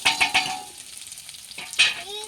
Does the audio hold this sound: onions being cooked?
yes